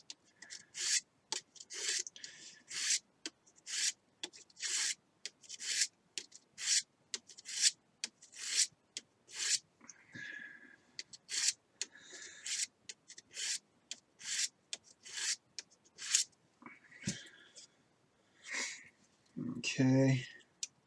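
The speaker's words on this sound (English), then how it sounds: "we'll take our sanding block and we'll just turn it and sand at the same time." A sanding block rubs in rhythmic, repeated strokes against a small part of a model rocket rotor, turning the part while sanding. The scratchy passes come close up, with brief pauses between them.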